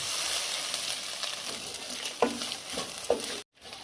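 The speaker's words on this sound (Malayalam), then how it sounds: "ഇനി നമുക്ക് ഈ തേങ്ങായും മുളകും എല്ലാം കൂടെ ചതച്ച് വെച്ചതൊന്ന് ഇട്ടിളക്കാം" Crushed coconut and kanthari chili stirred into a hot pan, a steady close sizzle with a few scraping stir strokes near the end before it cuts off abruptly.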